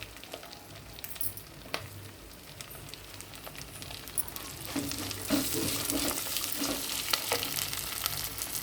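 Onions and curry leaves crackle and sizzle in hot oil as tempering for dal, a steady frying hiss that grows louder and busier partway through, with occasional stirring scrapes.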